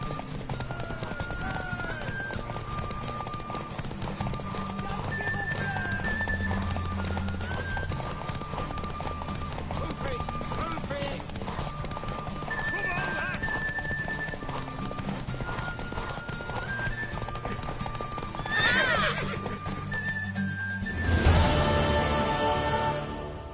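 Hooves clip-clop steadily over a long stretch, with a horse neighing and whinnying now and then, and a louder rustling burst near the end, in the game The Witcher 3: Wild Hunt.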